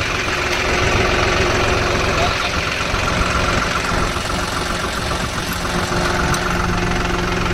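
A John Deere 5210 4WD tractor engine idles steadily close by, a continuous low rumble with a rough, knocking texture that holds constant throughout.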